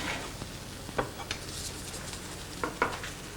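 Pancake batter frying in a pan gives a soft, steady sizzle at low level, broken by a few light clicks and scrapes of a utensil against the pan.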